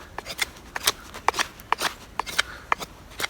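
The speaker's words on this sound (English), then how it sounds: "I can feel a difference for sure when I'm doing various cuts on this piece of wood" An ESEE 5 knife blade makes a series of sharp, irregular scraping cuts into a piece of wood, each one a close, crisp stroke separated by brief pauses.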